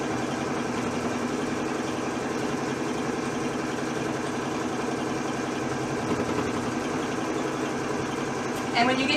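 Sewing machine stitching steadily around the edge of a baby rag quilt, a continuous close, even mechanical whir with a fine rapid rhythm throughout.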